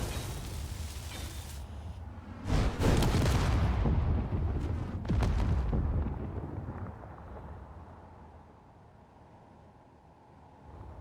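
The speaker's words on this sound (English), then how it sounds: "There's a something shooting rockets above my head." Rockets launch and blast overhead in the video game Underground Alone: two heavy booming bursts a few seconds apart over a steady rumble, then the sound fades to a quieter drone.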